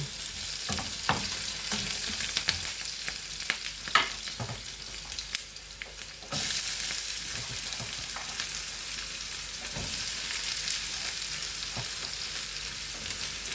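Whole spices fry in a pan of oil for a North Indian-style paneer curry: a continuous hissing sizzle with frequent sharp pops and crackles, swelling louder midway, with no voices.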